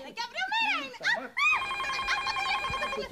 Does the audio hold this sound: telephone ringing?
yes